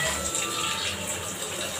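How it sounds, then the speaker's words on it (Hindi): A small amount of water is poured onto tomatoes and chillies in a pan, a soft, steady gushing pour that runs for a couple of seconds close by, fairly quiet. "इसमें पानी थोड़ा सा डाल के"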